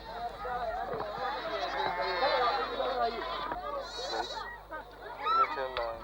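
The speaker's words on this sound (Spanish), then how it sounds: "Al atardecer, las mujeres ordeñan las cabras" Goats of transhumant herders in a Kenyan village bleat repeatedly at dusk during milking, their wavering cries heard near and far beneath a voice narrating.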